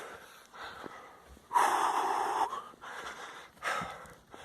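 Heavy, close breathing from a hiker climbing uphill on Dartmoor, with loud rasping inhales and exhales and snorting, wheezy gasps coming in uneven bursts.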